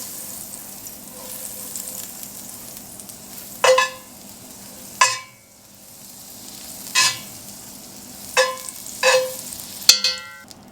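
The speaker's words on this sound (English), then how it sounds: "And we're just going to let that melt." About a tablespoon of butter melting in a hot pan, a soft quiet sizzle broken by several sharp clinks and scrapes of a utensil against the pan.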